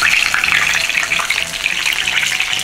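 Chicken pieces for sanzokuyaki deep-fry in hot oil over medium-high heat, a loud, dense, continuous bubbling crackle heard close up with no talking.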